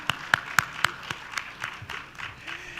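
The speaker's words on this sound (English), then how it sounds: "Please, a round of applause for him." Scattered applause from a summit audience, a few distinct claps at first thickening briefly into a light round before thinning out, fairly quiet and distant.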